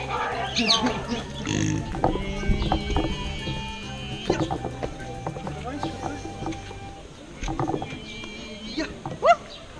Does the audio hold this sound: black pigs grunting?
yes